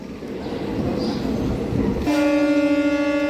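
A DEMU train pulls in at Rangapuram railway station with a low rumble, then sounds a loud, sustained horn blast that runs to the end.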